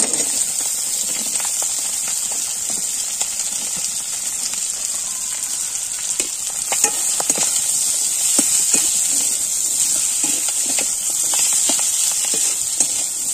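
Potatoes sizzling after being dropped into hot fish oil in a pan with chillies and whole spices: a steady, loud frying hiss runs throughout, with brief pops and crackles in the second half.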